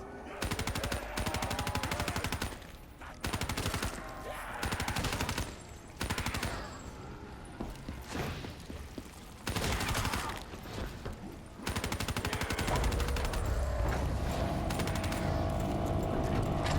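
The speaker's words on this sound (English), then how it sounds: "This dingo is low-key the best zombies weapon I've ever used" Bursts of rapid automatic fire from the Dingo light machine gun in Black Ops 3 zombies mode, loud and dense, broken by short pauses, with a long sustained burst near the end.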